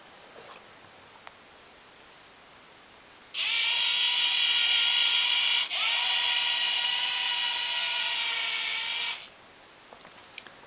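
A homemade robot's drive motors whine loud and steady for several seconds, break off for an instant as it brakes, then whir again in reverse before stopping, all in a quiet room.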